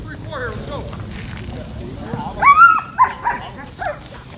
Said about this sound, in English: Dogs are barking here in Melrose Park.